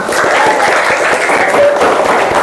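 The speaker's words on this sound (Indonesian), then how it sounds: "Tepuk tangan untuk Ai" Loud, dense applause for a student named Ai in a group session, a continuous burst of many hands clapping at close range for a couple of seconds.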